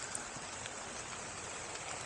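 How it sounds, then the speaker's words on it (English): Rain falling outdoors during a walk with puppies, an even hiss of drops pattering on surfaces around, fairly faint and continuous with no voices. "I didn't know it was going to rain."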